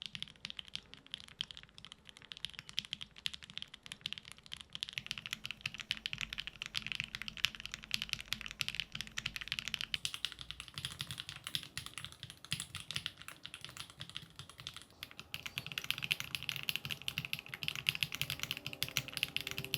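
Continuous typing on a QK Duo split mechanical keyboard, rapid uneven clacks of keys bottoming out in a dense stream throughout, close but fairly quiet, with no one speaking.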